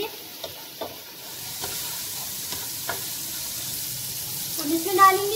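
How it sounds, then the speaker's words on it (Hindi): Chopped tomatoes fry gently in a pan, giving a soft, steady sizzle with a few light stirring scrapes near the start. Near the end a brief clatter rises above the sizzle. "टमाटरों के नरम होने तक हम इन्हें भूनेंगे।"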